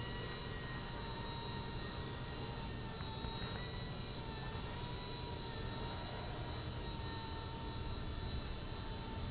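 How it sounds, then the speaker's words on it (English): A Rage RC Hero Copter flies with a steady, high-pitched whining rotor and motor drone that holds constant and fairly close throughout, with no voices. "I was excited to see this helicopter, and I'm very pleased with how it flies"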